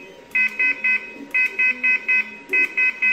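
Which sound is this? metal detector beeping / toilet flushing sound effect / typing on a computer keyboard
metal detector beeping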